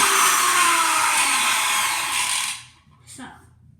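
A toy Lamborghini car gives off a loud, steady high-pitched whirring buzz for about two and a half seconds, then cuts out, followed by a brief faint chirp.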